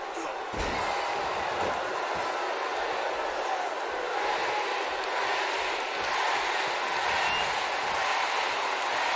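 Arena crowd in the WWE 2K18 wrestling game cheering in a continuous roar, with a sharp impact near the start and steady crowd noise beneath an announcer's commentary.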